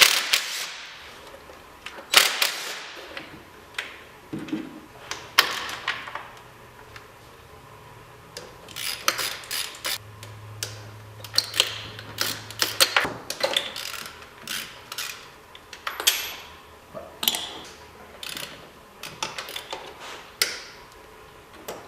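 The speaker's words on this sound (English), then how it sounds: "we're going to take off the 11 bolts holding down the valve cover" Valve cover bolts coming off a BMW M62 V8 engine: scattered close metallic ticks, clicks and ratchet rattles, irregular and sparse, with brief handling knocks and pauses between.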